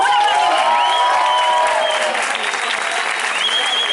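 Audience applause at a morning 9 October commemoration in Valencia, steady dense clapping filling the whole stretch, loud and close, with some whistle-like tones and faint voices mixed in.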